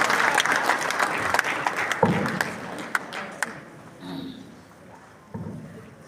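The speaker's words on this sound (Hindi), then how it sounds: "प्लीज जोरदार तालियां।" Audience applause at a national hawker federation meeting in Naharlagun, Arunachal Pradesh, a dense patter of many hands that fades out after a few seconds, with a few sharper isolated claps near the end.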